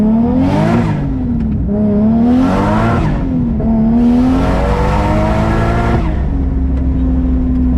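Big-power Chaser car engine revving hard in three long climbing pulls, each rising in pitch to near the rev limit before dropping back to idle, loud and close, with no voices.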